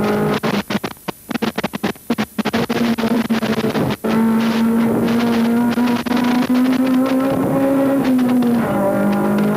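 A 1999 Mitsubishi Mirage Cup race car is driven hard around Oran Park's south circuit, its engine droning steadily near the rev limiter, with choppy bursts early on giving way to a sustained, loud high-revving tone.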